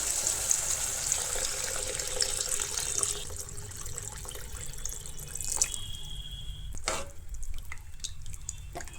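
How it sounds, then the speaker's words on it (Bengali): Water is poured into a pot of mashed tomato rasam, a steady splashing trickle with a few sharp drips near the end, heard close and fairly quiet with no talk. "এরপরে দিয়ে দেবো বেশ খানিকটা জল।"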